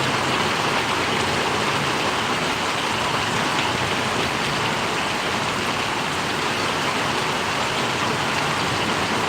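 Heavy rain falls without pause over Paravadi village in Gariyadhar taluka, a constant close hiss of drops on the ground and roofs, with a faint hint of a passing vehicle and no talk.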